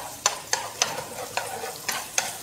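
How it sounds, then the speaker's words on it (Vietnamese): Rice frying with minced garlic and shallots in a pan, sizzling under a spatula that scrapes and stirs in a steady rhythm of about eight close, crisp strokes. "chúng ta phi cho nó vàng lên, chúng ta đổ cơm vô, chúng ta chiên"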